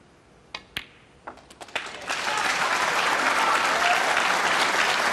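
A snooker crowd during Selby's 2018 maximum 147 break, with a few scattered single claps that quickly swell into sustained, steady applause filling the room.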